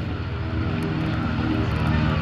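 The piston engines of a B-25 Mitchell, a twin-propeller bomber, drone loud and steady as it departs at the Sun 'n Fun 2018 fly-in, a continuous rough roar with no talk.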